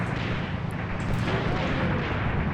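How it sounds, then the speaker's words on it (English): Grenade explosion in the Graviteam Tactics: Mius Front video game, heard as a dense, roaring blast wash with constant low rumble and crackle filling the whole short moment. "Oh, good grenade throw from our guys though."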